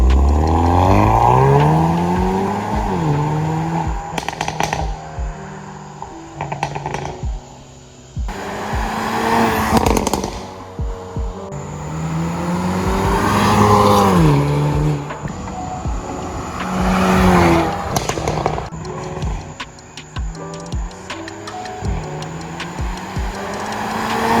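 A 2021 Hyundai Veloster N DCT with a resonator delete revs up and down repeatedly, its exhaust crackling with sharp pops and bangs between the loud revs.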